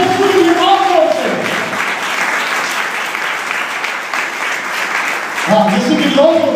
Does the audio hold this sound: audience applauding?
yes